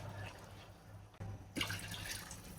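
Measured water is poured into a pot of Thalassery dum biryani. A soft, close splashing pour starts midway and continues steadily after a quiet stretch.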